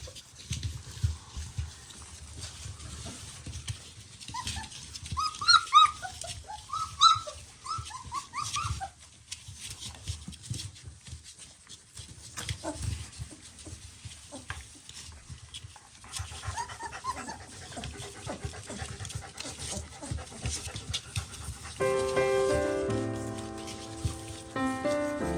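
A litter of puppies feeds noisily, panting, whimpering and giving small squeaks up close, with lapping and shuffling throughout and no talking.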